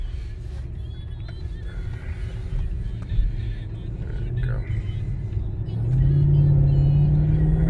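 A 2005 Mercedes E55 AMG accelerates from the cabin, a low engine rumble and road whir that swells into a deeper, louder drone toward the end, with a voice speaking over it.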